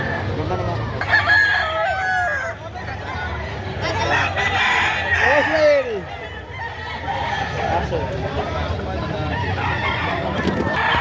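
Roosters crow repeatedly and chickens cluck at a poultry market in Padre Garcia, Batangas, several birds close by and loud, with people talking underneath.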